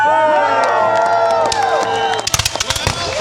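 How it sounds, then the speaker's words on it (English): A crowd of spectators cheers loudly when asked for loyal Canadians at an 1812 battle reenactment, with whoops and shouts mixed with a voice, then sharp gunfire-like cracks toward the end. "Now I gotta ask, any good loyal Canadians here, give a cheer."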